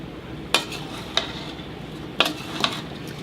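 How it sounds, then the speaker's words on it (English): A spoon stirs peach pie filling mixed with lemon juice, flour, cinnamon and nutmeg in a bowl, giving four soft, scattered clinks and scrapes against a quiet background. "now what you want to do is stir that up really well"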